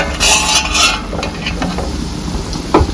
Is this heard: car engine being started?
no